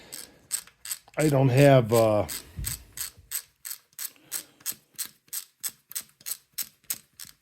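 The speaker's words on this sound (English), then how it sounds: "I got to use the ratchet." A ratchet wrench turns bolts on a Honda CL90 motorcycle during a shifting repair, giving rapid, even metallic clicks that continue steadily and close by after a short burst of someone talking.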